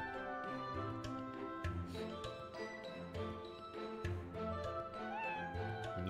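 A cartoon cat in the mobile RPG Another Eden gives a short, gliding meow over soft, continuous game music with light tinkling tones.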